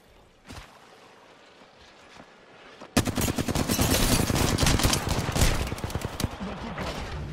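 Sustained automatic gunfire from an Apex Legends firefight erupts loudly after a quieter opening with one early shot, rapid bursts hammering continuously to the end.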